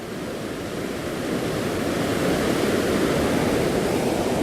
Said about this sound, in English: I hope you're hearing that sound, I'm sure you are, but look how absolutely crazy that fall is.